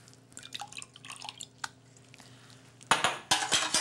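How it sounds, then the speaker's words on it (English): Tea bags lifted out of a pitcher of long-steeped tea, with light scattered drips and soft clinks, then a louder splashing run of liquid near the end, close by. "This one has been steeping for quite a while, and I will remove all the tea bags"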